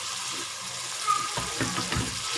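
Chopped ginger and garlic fry in a pan with browned onions, a steady close sizzle with stirring scrapes and small bursts of crackling.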